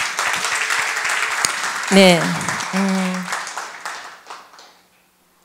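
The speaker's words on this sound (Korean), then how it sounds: "하나님께 감사의 영광의 박수를 한번 드리겠습니다" A church congregation bursts into applause at a celebration service, the clapping rising under the preacher's voice and fading away after a few seconds as he speaks.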